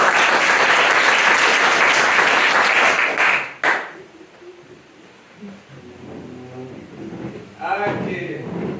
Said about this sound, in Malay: terima kasih tepukan kepada kumpulan 1